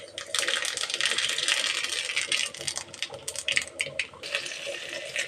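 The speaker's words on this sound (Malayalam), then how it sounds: "അതിലേക്ക് നമുക്ക് കടുക് ഇടാം" Mustard seeds sizzle and crackle in hot oil in a pan, a close, dense hiss broken by sharp pops and spatters throughout.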